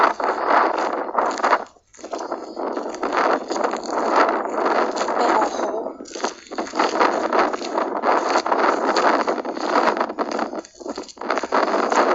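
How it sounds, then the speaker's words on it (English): Breezy outdoor wind at an abandoned winery in Guasti, California, a steady rushing buffet against the microphone with brief lulls, loud and close throughout. "so now it wants to be all breezy, huh?"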